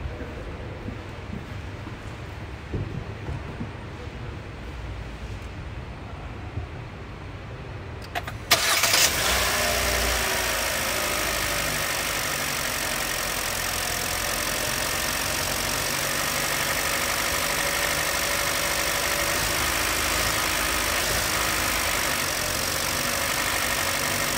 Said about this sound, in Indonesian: Oke, kita akan coba sedikit start mesinnya.